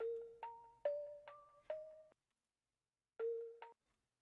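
A bright mallet preset plays a short melody of plucky, bell-like notes, echoed a beat later, then falls silent before a second brief phrase returns.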